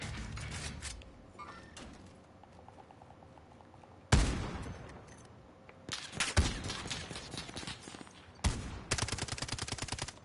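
Gunfire in Call of Duty Warzone on Rebirth Island, several loud rapid automatic bursts separated by quieter stretches of game ambience, sharp and close.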